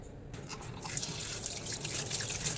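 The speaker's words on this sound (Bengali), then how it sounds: "এভাবে শাকগুলো ধোয়ার সময় একদম সাবধানে শাকগুলো ধুতে হবে যাতে কোনো ধরনের বালি না থাকে" Mola greens are rinsed by hand in water, giving faint soft splashes and trickles that go on continuously at close range in a quiet room.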